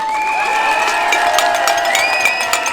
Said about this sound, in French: Et je vous demande à tous de vous applaudir très fort.